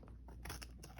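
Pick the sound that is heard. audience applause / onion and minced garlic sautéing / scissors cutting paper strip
scissors cutting paper strip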